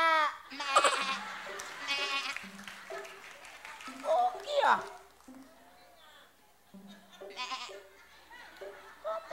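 A contestant on a game show imitates a goat, giving several wavering nasal bleats with clapping and short spoken remarks in between.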